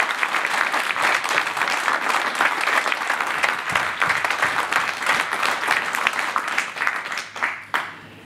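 A crowd on an outdoor tour in Provence gives sustained, thunderous applause for several seconds, dense and close, then it thins out into a few final claps.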